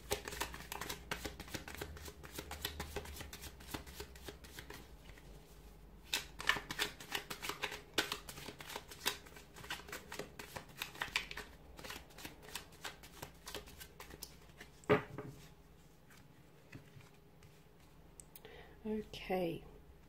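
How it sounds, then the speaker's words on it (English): Tarot cards riffled and shuffled repeatedly in quick crisp bursts, close up, with a few soft pauses and a faint voice near the end. "give the cards a shuffle"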